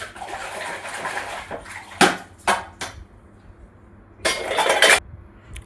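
Dishes, pots and pans being washed by hand in a home kitchen, with scattered clinks and clattering bursts of metal over a low steady background hum, loudest in a cluster near the end; no one speaks.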